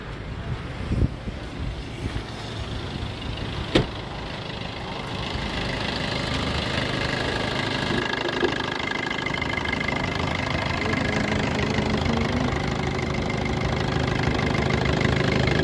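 A 2018 ZDI-variant SUV engine idles steadily with a smooth, continuous mid-pitched hum and slight knocking texture, heard close and alone at moderate volume.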